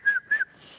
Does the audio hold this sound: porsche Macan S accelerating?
no